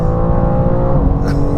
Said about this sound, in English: You can hear how quickly the engine sound changes.